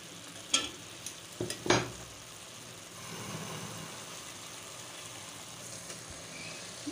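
Aloo keema fries in oil with a faint steady sizzle, punctuated early on by a few sharp scrapes and clinks of stirring against the pan, then settling into a low continuous crackle.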